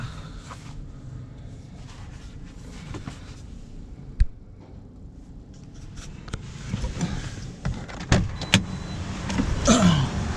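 Idling car engines and scattered clicks, thumps and door sounds around taxis waiting in line to fill up with NGV gas at a station, a low steady hum rising toward the end.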